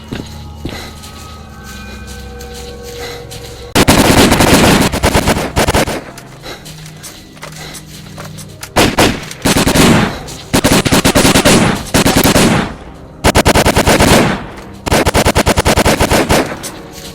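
Gunfire in the video game S.T.A.L.K.E.R.: Call of Pripyat, heard as loud bursts of rapid automatic shots that come in several separate volleys with short pauses between them, over a quieter ambient background at the start.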